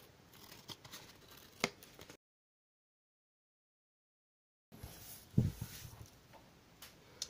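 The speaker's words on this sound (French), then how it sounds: "Donc on prend ces ciseaux et maintenant on découpe les angles." Scissors snip the corners of card stock for a mini star album craft: several soft, crisp cuts and clicks close by, with a short silent gap between two bursts of cutting.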